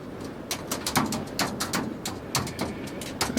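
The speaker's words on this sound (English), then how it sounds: "Here a bird outside." Bird calling outdoors with repeated short chirps and coos in an irregular rhythm, fairly close and moderately loud over a low background hum.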